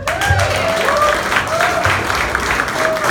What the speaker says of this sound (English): Another round of applause for Senator Hayes